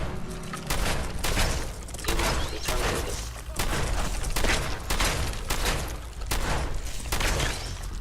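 A gun fires in repeated bursts in the video game Fallout 4, a series of close, loud rattling shots with short pauses between them.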